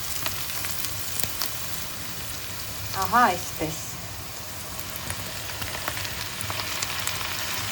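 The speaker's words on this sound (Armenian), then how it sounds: "Այժմ էլ միասին եմ տապակում։" Minced meat, boiled with salt beforehand, fries with lightly golden onions in a pan for Armenian arishta noodles: a steady close sizzle throughout, with a short spoken phrase over it midway.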